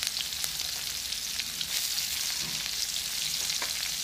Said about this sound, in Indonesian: Gorengkan dulu dulu.